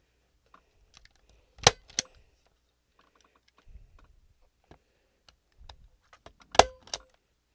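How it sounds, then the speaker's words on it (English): Sharp mechanical clacks of a stapler fastening old book pages for wall art, two pairs of snaps near 1.7 and 6.6 seconds with soft handling rustle between, close and otherwise quiet. "And we're going to staple these down."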